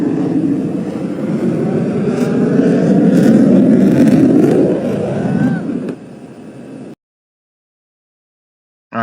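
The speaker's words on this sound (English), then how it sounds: "This is a military aircraft." A military aircraft roars loud and close for about six seconds as a steady broadband engine rumble, then cuts to quieter noise and brief silence.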